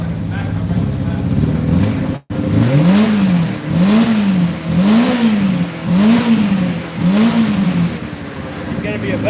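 A Honda S600 engine, just started after sitting as a barn find, with slightly out-of-sync carburetors and an exhaust leak, revs up and down loudly and close in five rhythmic, rising-and-falling swells.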